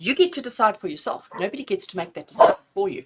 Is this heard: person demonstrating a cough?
no